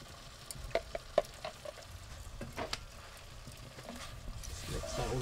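Smoked brisket being stirred with onions and stock in a lidded pan over a kamado-style grill, giving soft scraping and a low sizzle with a few sharp utensil clicks near the start, fairly faint throughout.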